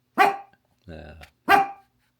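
A dog barks twice, sharp and close, with a short low growl or whine between the barks, in a quiet indoor setting.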